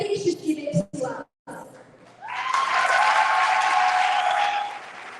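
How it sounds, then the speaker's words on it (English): Audience applause at the Premio Esperanza 2025 award ceremony swells after a short silence and holds as loud, sustained clapping with a whistle or cheer riding over it, following some talk at the start. "Let's give her a round of applause that echoes everything she's given to us."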